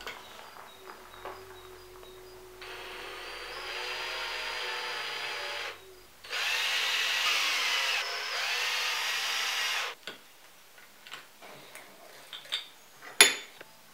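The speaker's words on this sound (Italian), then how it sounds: "mettere un gancetto così sul trapano e semplicemente far girare questi in questo modo" A power drill spins fishing lures on a hook in two sustained whirring bursts with a pause between, followed by light clicks and handling taps.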